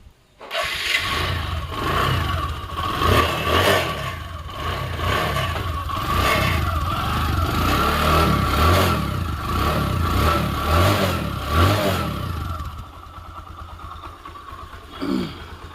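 A second-hand Bajaj Discover 100cc motorcycle engine runs steadily and loudly nearby, then drops to a quieter idle near the end, with no voices.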